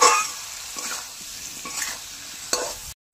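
Potatoes and elephant foot yam are stirred and fried in spiced oil for a catla fish curry, giving a steady close sizzle with scraping spoon strokes and a sharp clack near the end before a brief silence.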